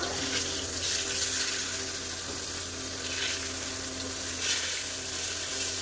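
Eggplant slices deep-frying in plenty of hot oil in a home kitchen, a steady, loud, close sizzle with crackling bubbling that holds throughout without talk.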